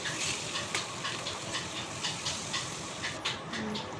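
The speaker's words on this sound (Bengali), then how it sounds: "এখন করব কুমড়ো ভাজা।" Pumpkin pieces fry in a pan with a steady, dense sizzle and crackle that carries on without a break throughout, close and fairly loud, with no talking.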